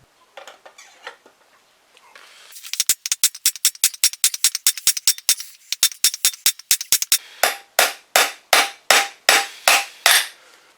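A bearing is hammered onto the steering stem of a 1999 Yamaha YZ250 using a length of PVC pipe: a few light taps, then a rapid, steady run of sharp metallic blows that slows into heavier, ringing strikes, close up with no talking.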